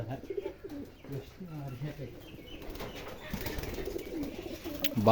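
Pigeons coo in soft, low, repeated calls with bursts of flapping wings, close by. A voice murmurs faintly underneath.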